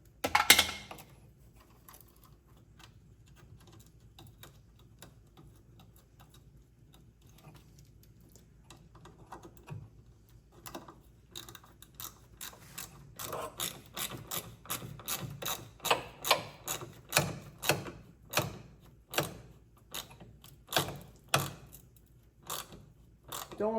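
Wrench clicking as it tightens the fuel filter clamp bolt on an NB Mazda Miata, a quiet stretch giving way to a rapid run of close, sharp ratcheting ticks that grows louder and more regular toward the end.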